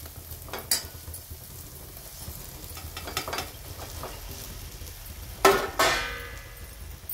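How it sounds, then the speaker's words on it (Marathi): Soft frying sizzle as fried eggplant is stirred into a green chili masala with a few scraping stirs of a spoon in a pan, growing louder with two sharp bursts near the end. "आता आपण हे वांगे परतून घेतलेले ते टाकून देऊ"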